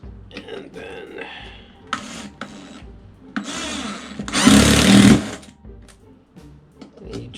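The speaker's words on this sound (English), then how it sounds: "you just want to drill it in" A power drill drives into wood on a DIY jewelry display, a short loud whirring burst amid scattered handling clicks and knocks.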